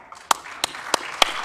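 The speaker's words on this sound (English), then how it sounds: "A big hand clap for Professor" Four slow, evenly spaced hand claps, fairly close and distinct, from a small audience at a regional anti-corruption agencies conference, with faint room tone between them.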